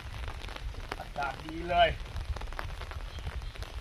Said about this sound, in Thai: อากาศเย็น ฝนก็ตกเบา